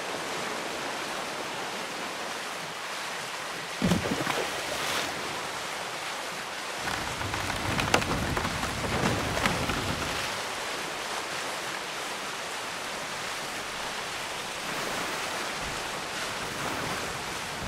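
Storm rain at sea in the pirate game Skull and Bones, a dense continuous hiss of rainfall and surf that swells louder in the middle stretch, with no voices.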